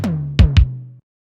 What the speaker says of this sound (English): We'll have that hit twice, and then we'll go ahead and have the low tom hit right here